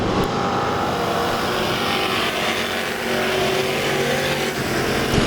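Race cars in a heat at Lake Ozark Speedway run down the back straightaway, a sustained engine roar heard from a distance with overlapping motors rising and falling as the field passes.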